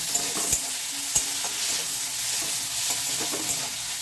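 A halved medium tomato fries in a pan while a rohu fish head and jackfruit seed curry cooks. A steady sizzle carries on throughout, with a few sharp clicks of stirring.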